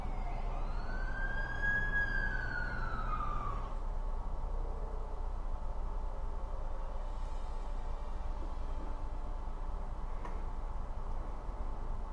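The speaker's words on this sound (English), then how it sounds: "That's the ambulance I called." An ambulance siren wails in a few rising and falling sweeps, moderately close at first and then cutting off, leaving quiet background hum and faint ticking.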